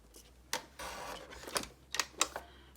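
A Tim Holtz paper trimmer slicing cardstock for a slimline card, a few short close clicks and one brief sliding cut, quiet with no talking.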